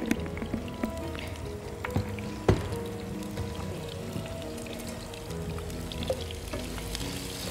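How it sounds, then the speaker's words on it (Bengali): Chopped onion frying in oil in a pan while a shol fish bhuna is being made, giving a steady low sizzle with a few clinks and a sharp knock near the middle. No one talks. "একটু লাল করে ভেজে নিতে হবে এটা একটু বাদামি করে ভেজে নিতে নিতে"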